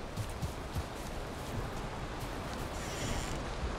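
Steady rain in the video game Valheim hisses as an even broadband wash of noise, continuous and moderately loud throughout with no voices.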